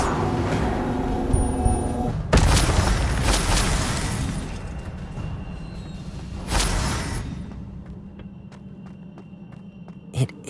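Incendio fire spell cast in Hogwarts Legacy, two loud bursts of whooshing flame a few seconds apart, each flaring then fading, followed by quieter scattered clicks and one sharp final hit.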